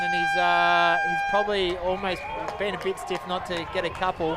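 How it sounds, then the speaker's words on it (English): The quarter-time siren sounds at an AFL senior men's grand final in Capricornia, a loud sustained horn blast lasting about a second, followed by a commentator talking. "That's the siren."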